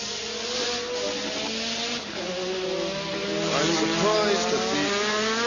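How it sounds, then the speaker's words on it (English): A Formula One race car at the 1985 Australian Grand Prix gives a high, whining engine note that rises and falls over a broad roar, heard from a moderate distance under commentary. "there is Mark Sure's car, which is coming to a stop"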